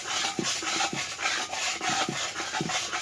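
Spice paste with whole garam masala and cinnamon stirred and sautéed in a pan for ilish khichuri, giving repeated scraping, rasping strokes in a steady rhythm, close and fairly loud, with no talking.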